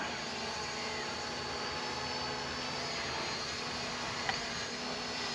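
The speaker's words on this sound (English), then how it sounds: "The drone will rotate clockwise." A HolyStone HS700E drone flies an orbit, its steady high-pitched propeller whine holding constant and fairly close throughout, with a faint click near the end.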